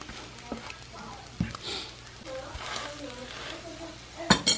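An egg fries in a pan over a medium flame, a soft steady sizzle with a few light clicks and taps of a utensil, while a person talks over it.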